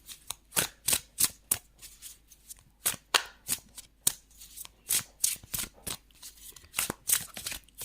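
Tarot cards shuffled by hand in a steady run of crisp riffling bursts, close and fairly quiet, with no voices.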